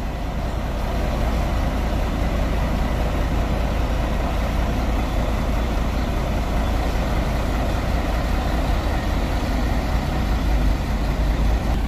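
A Guanabara company bus pulls out of the Ribeirão Preto bus terminal, its heavy diesel engine rumbling low and steady at moderate distance, continuous with no talk.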